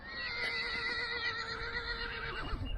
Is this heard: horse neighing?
yes